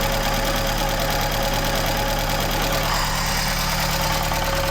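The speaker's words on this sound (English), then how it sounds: "that clutch fault down here is rattling." Steady dense mechanical rattle and engine drone from an MK1 Ford Escort van with a clutch fault, loud and continuous throughout, no voices.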